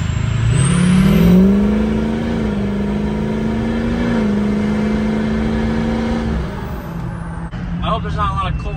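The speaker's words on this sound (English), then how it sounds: "it's basically a lot of turbo noise" A 6.0L Powerstroke diesel truck with a hood stack drives along, turbo whistle rising and holding over a loud engine drone, then easing off near the end.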